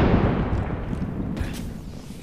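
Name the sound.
grenade explosion in a video game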